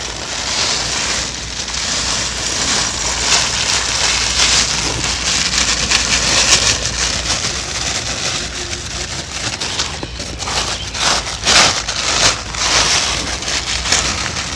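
Rock salt is spread into an electrical earthing pit at a workshop or home, giving a dense, continuous pattering rush of grains landing, loud and close, with no voices.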